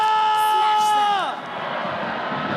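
An esports arena crowd at the FPL Velodrome in Rawamangun during an MPL Indonesia playoff match between ONIC and RRQ Hoshi. A drawn-out amplified voice gives way to a broad, sustained wash of crowd noise.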